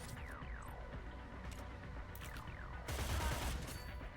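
Rapid bursts of gunfire from the video game Cyber Knights: Flashpoint crackle at a moderate distance, with a heavier, denser volley near the end.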